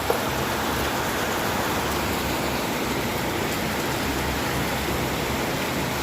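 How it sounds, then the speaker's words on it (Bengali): Rain falls steadily outdoors as a dense, even hiss that stays loud and unchanging throughout, with no voices heard. "বৃষ্টি পড়ছে"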